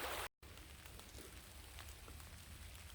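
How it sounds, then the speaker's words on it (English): Light rain patters steadily onto a creek at a gold prospecting spot, a soft, even hiss of drops with faint scattered ticks and no voices. "Well, the rain's trying to run me out of here."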